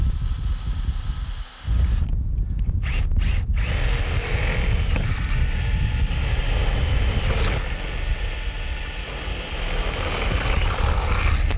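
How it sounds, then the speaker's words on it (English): A power drill with a 5/8 inch bit bores through a greenhouse door. The loud whir runs steadily for about ten seconds, broken by a short pause and a few brief stops near the start. "We're going to use a 5/8 inch drill bit to drill through the door so that the door handle hardware can pass directly through it."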